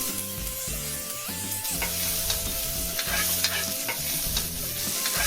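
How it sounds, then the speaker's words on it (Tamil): Small shallots sautéing in a pan, a close steady sizzle broken by repeated stirring scrapes, with a faint tonal hum running underneath. "சின்ன வெங்காயம் வதங்கிட்டுருக்குது"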